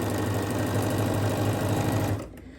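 A sewing machine hums steadily and loud nearby as it stitches quilt block units along a marked line, then cuts off abruptly near the end with no talking.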